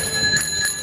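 A single bright ring from a small bike bell, loud and close, with a steady metallic tone that holds through the short moment.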